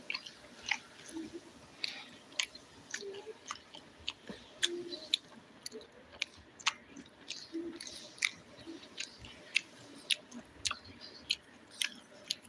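Someone eats fried chicken up close, with steady crisp bites and wet chewing recurring about once a second throughout, with no talking.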